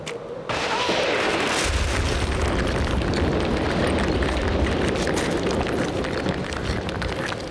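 Cartoon lightning strikes in a forest of stone trees with a sharp crack, followed by a loud, sustained rolling rumble of thunder that fills the scene.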